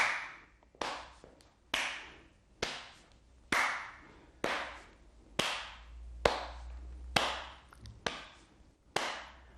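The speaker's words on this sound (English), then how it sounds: "Now loose your arms and back to your taps and claps." Hand taps and claps during a seated chair exercise routine, about eleven sharp, evenly spaced smacks roughly a second apart, each ringing briefly in a quiet room with no talking.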